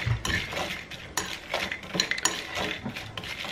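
Keto breakfast ingredients being stirred in a bowl with a utensil, quick scraping and clinking strokes close up, irregular rhythm, no voices.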